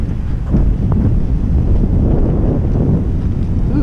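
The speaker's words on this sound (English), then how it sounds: "Ooh, feel the wind." Strong wind buffets the microphone outdoors on Catalina Island, a loud, continuous low rumble that fills the whole moment with no voices.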